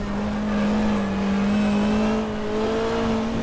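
A touring race car engine in the GTR2 racing game at Calder Park holds a steady, loud drone after a downshift into second gear, with no one speaking.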